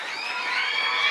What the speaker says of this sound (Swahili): pigeni vigelegele wanafunzi.